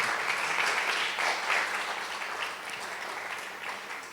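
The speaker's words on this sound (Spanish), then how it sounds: "Y dé un aplauso a Jesús, porque Jesús es hermoso." A church congregation applauds after a sermon on Matthew, broad sustained clapping filling the room, fading slightly toward the end.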